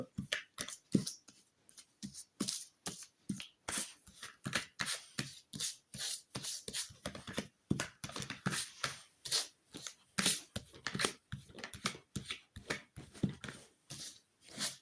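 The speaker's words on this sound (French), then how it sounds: "on étale le jeu" A deck of cards is spread out across a table during a card reading, giving a steady run of soft, crisp flicks and slides, close and fairly quiet, with no voice over it.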